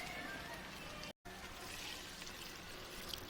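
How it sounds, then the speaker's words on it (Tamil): Water pours into a simmering pork curry in a home kitchen, a faint, soft splashing trickle with a brief gap partway through. "இன்னும் கொஞ்சம் தண்ணி ஊற்றி நம்ம வேக வைக்கலாம்."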